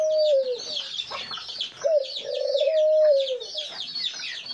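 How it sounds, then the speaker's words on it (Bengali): Domestic doves coo in a cage on a small home farm, long low rolling coos repeating close by, with sharper bird chirps from other cage birds layered over them. "আর এই ঘুঘু পাখিটার ডাক শুনে মাশাআল্লাহ আমি মুগ্ধ হয়ে যায়"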